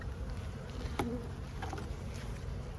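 Honeybees in an open hive during a spring brood inspection, a steady close buzzing drone that fills the whole stretch, with a brief louder pass of a bee near the listener.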